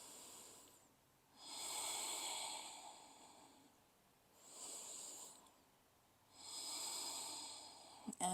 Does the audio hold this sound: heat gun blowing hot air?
no